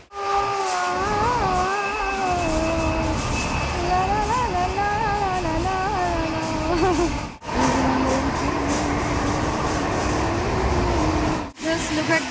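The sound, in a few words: inside a moving passenger train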